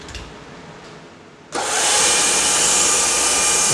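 An IBM 1403 N1 line printer starts printing: a quieter machine hum gives way abruptly to a loud, continuous, dense mechanical roar that holds steady to the end.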